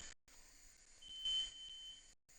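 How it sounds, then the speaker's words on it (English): A kitchen timer set for a pie beeps softly in a steady, high electronic tone inside a home kitchen during cooking, fairly faint against a quiet background. "That's the alarm clock for the pie, but we already took it out."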